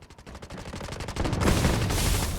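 Rapid automatic gunfire in the Delta Force shooter game, a fast regular burst of shots that swells into a dense, loud, sustained roar of overlapping fire.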